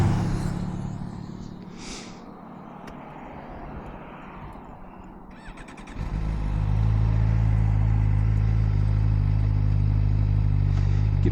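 A Suzuki GSX-R motorcycle idles quietly while backing up, then its engine settles into a loud, steady, low rumble close by for the remaining seconds.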